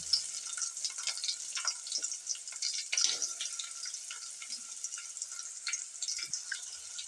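A chopped large onion sizzles steadily in a hot pan while a North Karnataka-style moth bean (madakikalu) palya is cooked. The frying hiss is continuous, with occasional faint stirring clinks close by.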